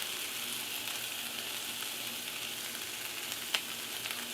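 A chicken patty frying in a pan gives off a steady, even sizzle, with a single brief click partway through and no voices.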